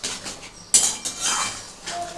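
Cashew and melon-seed paste being stirred in a pan for potol dorma, a metal spoon scraping and clinking against the pan in a few close strokes.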